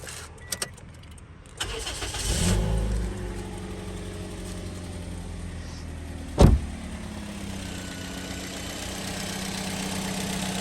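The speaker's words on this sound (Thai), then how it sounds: "เดี๋ยวไปฟังเสียงเครื่องกันก่อน" The engine of a 2008 Toyota Vios automatic cranks and starts, then settles into a steady low idle, with a sharp mechanical thump partway through.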